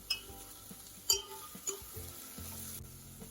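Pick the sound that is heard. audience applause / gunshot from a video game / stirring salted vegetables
stirring salted vegetables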